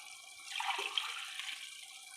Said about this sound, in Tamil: இந்த டம்ளரில் 2 டம்ளர் தண்ணி ஊற்றிக்கிறோம்.